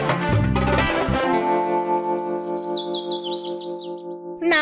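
A cartoon pigeon gives a string of chirpy, warbling bird calls over a sustained tonal backdrop, clear and fairly loud, ending with a short abrupt sound.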